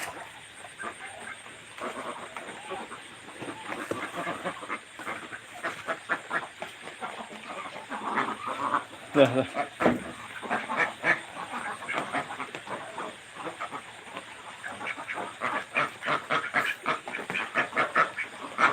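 Scattered duck quacks and poultry calls come in irregular bursts against a faint, steady background hum.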